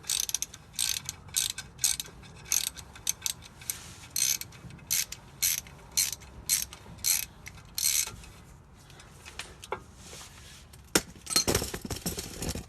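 A ratchet clicks in quick repeated bursts as it backs a bolt out of a rear differential cover on a 1973-87 Chevy/GMC truck, with a few sharper metallic knocks near the end, close up and without speech.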